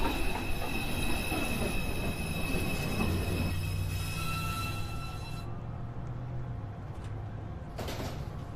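An automated NYC subway 1 train pulls into Beverly Road station with a loud, sustained rumble and high, thin wheel squeals that ease off as it slows.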